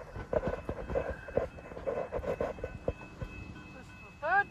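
Fort Worth Western Railroad train passing nearby, heard as rhythmic clanking and rumbling wheel noise with a brief horn-like tone near the end.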